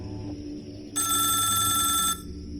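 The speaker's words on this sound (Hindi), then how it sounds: "ट्रक मालिकों को फोन करता है" A mobile phone rings with a bright electronic trill for about a second, loud and close, over a low steady drone.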